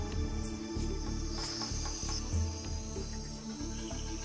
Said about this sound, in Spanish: Después de una lluvia, la selva bulle de ranas.